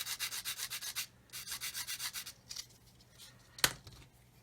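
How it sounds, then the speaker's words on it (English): A sanding stick squares the end of a plastic part from an Airfix 1/24 F6F-5 Hellcat kit, with quick rhythmic rasping strokes in two bursts, then a few scattered rubs and a sharp click, close and quiet. "I'm going to square it up using a sanding stick."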